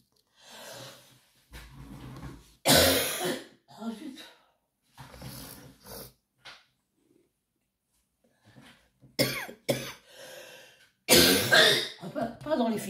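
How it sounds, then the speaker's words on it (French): A woman coughs and clears her throat in several harsh, close bursts separated by pauses, mixed with some speech. "J'ai avalé de travers en toussant."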